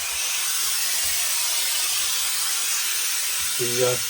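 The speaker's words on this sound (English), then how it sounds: "the reason I'm putting on a lot of steam is so I can just stretch it down over the block" Steady, loud hiss of steam from a steamer played over a hat being stretched onto a block for restoration, continuous throughout with a brief low hum near the end.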